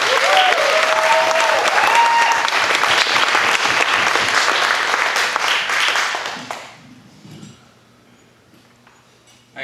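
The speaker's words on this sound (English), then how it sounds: "Give him a big round of applause, James Keese." Dense audience applause for a comedian at a live comedy show, loud and sustained for about six seconds, then fading to quiet room noise as a voice begins.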